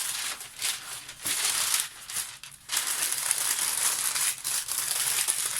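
Paper crinkles and crumples in bursts of dry rustling, with a couple of short pauses between handfuls, close and fairly loud, as paper is laid in while smoking pork ribs.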